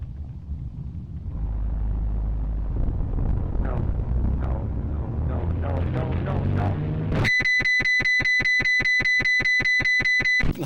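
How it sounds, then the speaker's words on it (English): A beeping electronic tone from the Half-Life video game plays loudly in a steady, rapid repeating rhythm after a stretch of rumbling, swelling noise. "Half-Life death sound"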